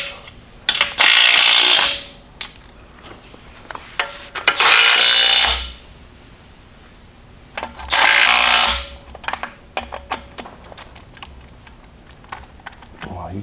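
Three loud bursts of a power impact tool zip down bolts on an 8.75 Mopar axle assembly, each lasting about a second, with clicks and handling noises of sockets and parts between them.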